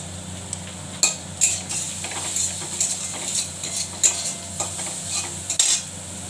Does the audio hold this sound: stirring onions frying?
yes